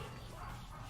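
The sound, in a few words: dog barking in a Nintendo video game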